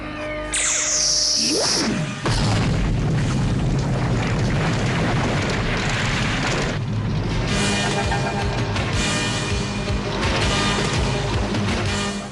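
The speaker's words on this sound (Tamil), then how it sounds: "அந்த எரிமலை வெடிச்சு சிதறிக்கிட்டு இருக்கு" A cartoon volcano erupts in the He-Man and the Masters of the Universe animated series, a dense continuous rumble with booming crashes that starts with a falling whistle and then roars steadily throughout, with no talk.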